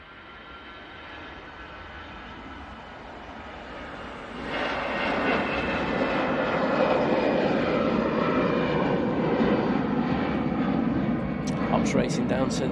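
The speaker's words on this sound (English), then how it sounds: "EasyJet, now on the roll." EasyJet airliner on its takeoff roll at Manchester Airport, a broad engine roar that swells sharply midway and stays loud and steady, with people talking over it.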